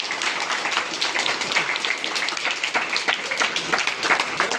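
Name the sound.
applause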